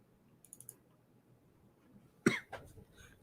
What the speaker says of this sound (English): Excuse me for a moment. Just going to cough for a bit.